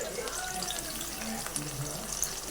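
Small tomato pieces sizzle and fry in a pan with onion, green chilli and curry leaves for tomato rice. There is a soft, steady crackling hiss under a speaking voice, with a few faint stirring clicks.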